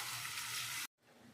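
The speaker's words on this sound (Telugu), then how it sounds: "వీటిని మరుగుతున్న ఆయిల్లో వేసేస్తున్నాను." Sliced medium onions tipped into hot oil while cooking gongura chicken, giving a loud, steady frying sizzle that cuts off abruptly, then a quieter sizzle resumes.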